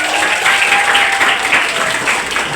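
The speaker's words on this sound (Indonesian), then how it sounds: "Kembali kita berikan aplaus untuk Pak Ismail" Dense, loud applause from a school audience of students at an MPR RI outreach event in Batam, sustained clapping filling the room from start to finish.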